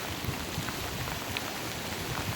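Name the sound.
rain falling in a park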